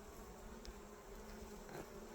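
Honeybees buzz around their hive outdoors, a faint continuous droning hum with a few individual bees passing, steady and without talk.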